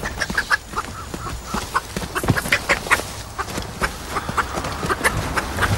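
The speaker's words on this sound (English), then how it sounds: "You trying to tell me a chicken's fucking smarter than you, Trev?" A chicken squawking and clucking in a trailer park yard, repeated agitated calls up close amid scuffling and movement, with a voice heard briefly.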